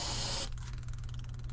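Ether is sprayed from an aerosol can into the intake of an old diesel roller compactor, a loud steady hiss that cuts off abruptly, leaving a low background hum.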